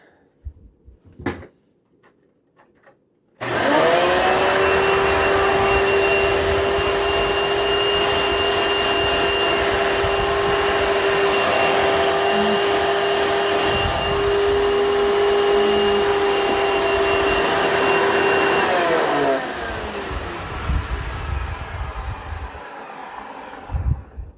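A Hoover Elite vacuum cleaner switches on with a click and runs loudly and steadily for about fifteen seconds with a whining motor hum, then its pitch drops as it winds down and shuts off.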